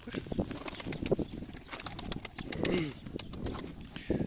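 A stray racing pigeon with blood-soaked wings coos softly up close, its low throaty calls mixed with faint rustling and scattered clicks.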